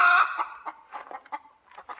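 Close, loud clucking of a mother hen guarding her chicks, a quick run of sharp clucks followed by softer, uneven clucks, with no talk.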